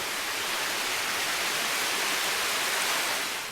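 A waterfall and creek on a Pisgah National Forest trail rush in a steady, full hiss of falling and flowing water, constant and fairly close throughout.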